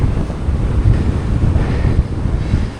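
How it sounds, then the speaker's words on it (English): Strong wind buffeting the microphone while cycling along a gravel route on aero bars, a loud continuous low rumble with gusty swells and no voices. "it's been so windy"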